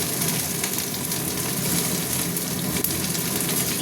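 Bay leaves and whole cumin seeds sizzle in hot oil in a pan, a steady close hiss with one faint click partway through and no talk.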